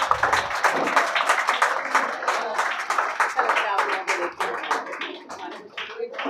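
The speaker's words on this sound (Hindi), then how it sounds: "तालियां बंद नहीं होना चाहिए जब तक फेलिसिटेशन पूरा नहीं होगा." An audience keeps clapping through a felicitation at a book launch, dense sustained applause with sharp individual claps standing out, while a voice speaks over it at times.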